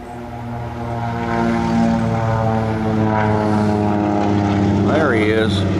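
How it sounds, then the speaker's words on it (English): A low-flying propeller airplane drones loudly overhead in a strafing-style pass over a house, its engine tone steady and swelling, with a person talking under it near the end. "there's a run right over top of it. It sounds like a strafing mission or a dive bomber."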